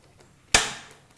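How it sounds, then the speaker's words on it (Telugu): A gas stove switched on in a home kitchen, a single sharp click followed by a brief whooshing burst of flame that fades within half a second, alone in a quiet room. "తాలింపు కోసం స్టవ్ ఆన్ చేస్తున్నాను."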